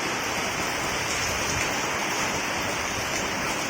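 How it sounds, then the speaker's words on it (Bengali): Heavy rain pours down outside in a dense, unbroken roar of rushing water that stays loud and constant with no talk. "প্রচণ্ড বৃষ্টি প্রচণ্ড বৃষ্টি"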